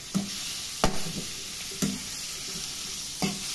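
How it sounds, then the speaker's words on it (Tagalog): Marinated pork with soy sauce sizzles in a pan for adobo with string beans, steady frying hiss broken by a few distinct scraping stirs of a utensil against the pan. "Halo-haloin lang natin siya hanggang sa mga ano siya."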